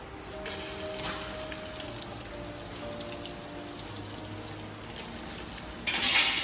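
Chopped onion frying in hot oil in a pan while making vegetable biryani, a soft continuous crackle and hiss that swells into a louder burst of sizzling near the end.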